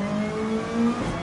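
A turbocharged race car engine in the Gran Turismo 7 video game drones at a steady pitch, then rises briefly before dropping off, with no voices.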